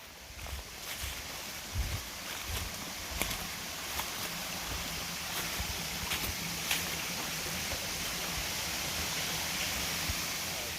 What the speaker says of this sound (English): I got to the waterfalls